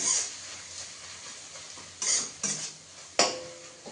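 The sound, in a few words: stirring capsicum in a cooking pan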